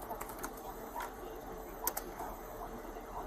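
Soft, irregular keyboard clicks tapping away at a distance under a faint background hiss, with one sharper keystroke standing out.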